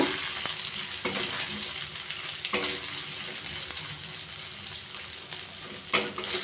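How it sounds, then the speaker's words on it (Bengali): Gobindobhog rice and potatoes fry in a pan over a lowered gas flame, a steady close sizzle broken by periodic scraping and stirring strokes of a spatula against the metal. "গ্যাসের ফ্লেমটা কমিয়ে এক মিনিট আলু দিয়ে চাল দিয়ে ভালো করে ভেজে নেব"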